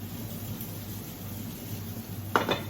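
Onions cooking in a pan for pasta con le sarde give a faint, steady sizzle, with a brief metallic clatter of utensils near the end.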